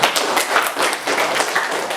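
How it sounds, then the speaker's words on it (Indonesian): A classroom of students claps together in a quick, fairly loud burst of overlapping hand claps with a brisk, uneven rhythm across the whole span, with no talk over it. "Berarti semuanya tepuk tangan untuk kita semua."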